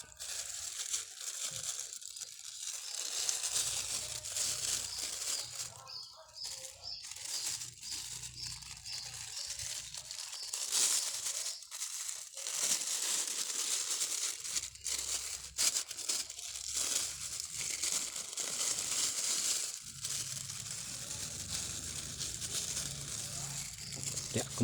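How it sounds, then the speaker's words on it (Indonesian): Plastic sheeting crinkles and crackles loudly as it is wrapped around a papaya tree, a long run of close, irregular rustling bursts with brief pauses and a person speaking intermittently. "kita bungkus saja menggunakan plastik ya"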